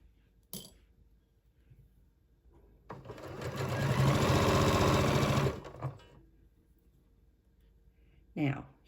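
A sewing machine basting a knit neckband onto a garment neckline runs in one steady burst of rapid stitching lasting a few seconds, bracketed by soft clicks and handling noises, with no talking.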